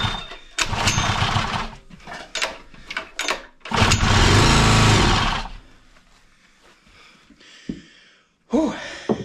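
A Honda GX120 engine on an air compressor with no compression cranks repeatedly, uneven bursts of churning pull-start effort with one longer loud grinding stretch, close-up, failing to catch, with brief breathy noises between attempts.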